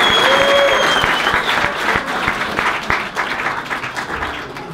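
Spectators at a VfB Lübeck regional league football match against SC Weiche Flensburg 08 applauding, dense clapping that gradually thins and fades, with a brief whistle-like tone early on.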